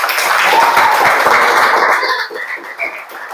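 A burst of dense clapping from a school class, loud for about two seconds before thinning into a few scattered claps.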